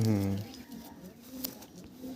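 An older Madras pigeon in a loft gives a short, loud coo at the very start, followed by quieter murmuring and low background noise.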